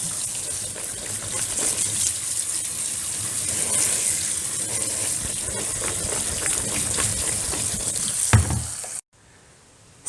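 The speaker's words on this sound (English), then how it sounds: "You're gonna dump them in the strainer and just rinse them until the water runs clear." Tap water gushes steadily over canned beans in a kitchen strainer, a continuous hissing splash at close range that ends abruptly when the flow stops near the end.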